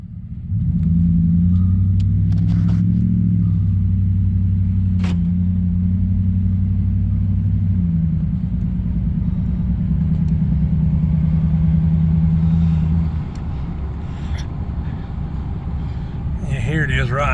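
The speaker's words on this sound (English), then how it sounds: "Let this truck come by." A truck drives past on a residential street, its low engine rumble swelling close and holding for several seconds before easing off as it moves away.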